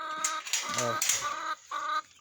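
Chickens in a coop giving a few short, close clucks and squawks in bursts, with brief pauses between them and no talking.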